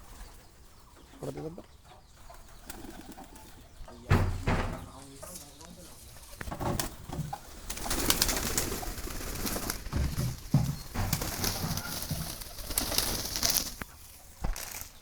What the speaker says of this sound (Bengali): কবুতরগুলো খুব সহজেই পোষ মানাতে সক্ষম